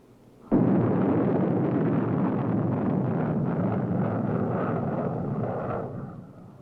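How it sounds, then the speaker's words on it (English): A Corporal missile launches at a 1962 test with a sudden loud roar that starts abruptly and holds as a dense, steady rush, slowly fading toward the end. "In this test, a Corporal missile is launched."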